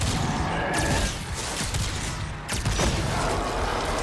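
Sniper rifle fire in the Destiny 2 shooter game, sounding as a couple of sharp, loud cracks with booming tails over a dense bed of in-game rumble and mechanical clatter, no talking.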